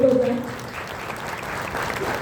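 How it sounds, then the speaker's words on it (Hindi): An audience at a Hindi motivational event claps steadily, moderate crowd applause continuing after a voice trails off at the start. "अगर आप लोग सहमत हैं तो एक बार जोरदार तालियां जरूर बजाएं।"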